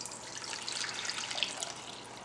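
Rice being rinsed in water for cilantro-lime rice, giving a soft, steady sloshing and trickling wash, faint and close, with no talk.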